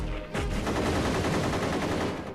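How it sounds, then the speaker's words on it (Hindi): Gunfire in a Hindi film battle scene from Maa Tujhe Salaam, a dense continuous burst of rapid shots and crackling fire lasting about two seconds, loud and close, with no speech. "अपने फौजी भाइयों पर गोलियां क्यों चला रहे हो?"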